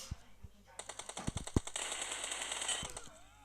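Rapid automatic gunfire from the PUBG Mobile video game crackles in quick bursts, with a few sharper single shots mixed in, moderately loud and dense before tapering off.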